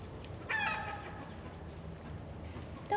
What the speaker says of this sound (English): Don't harass the chickens